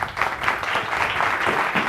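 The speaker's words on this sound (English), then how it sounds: "I would like a big applause for Ramón Nogueras" Audience applause at a university leadership conference, a steady dense burst of clapping from a crowd, fairly close and loud, with no talk over it.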